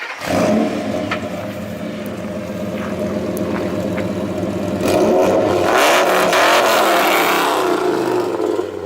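A V10 engine with a custom 5-to-1 header revs hard, loud and close, with a rough, rumbling idle that rises into a sustained high-rev roar in the second half.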